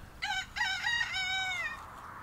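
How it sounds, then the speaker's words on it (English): A cockerel crows once in the early morning, a clear and fairly close call that rises through a few broken notes into a long drawn-out final note against a quiet background. "Cue the cockerel."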